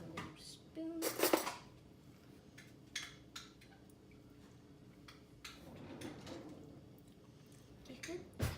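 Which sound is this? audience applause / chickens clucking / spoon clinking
spoon clinking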